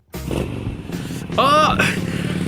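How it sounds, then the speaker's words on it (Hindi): A motorbike starts and quickly picks up speed, its engine rising in a short revving whine partway through, loud and close, with a voice talking over much of it. "चेतन ने अपना Pushpak sorry sorry bike start करते ही इतनी तत्काल में स्पीड बढ़ाई"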